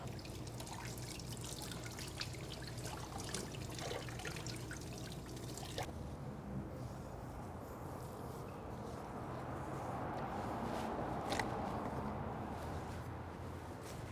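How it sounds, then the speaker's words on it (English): Cold tap water trickles and drips over a salt-cured beef brisket being rinsed for pastrami, a faint, continuous running stream with a few sharper splashes. "I need to run it under some cold water to make sure we get all that excess salt off of the outside"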